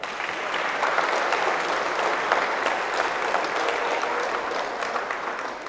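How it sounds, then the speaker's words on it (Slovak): A large crowd of nearly 340 players claps at the opening of a chess event, loud and sustained, a dense steady roar of hands that holds at full strength and barely tails off at the end. "to si zaslúžia potlesk pre vás"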